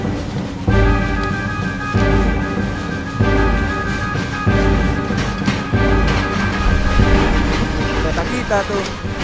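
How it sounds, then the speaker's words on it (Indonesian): A train rolls loudly along the rails nearby, with a rhythmic clickety-clack and steady metallic rumble and tonal whine throughout, while people talk over it. "Kereta kita tuh"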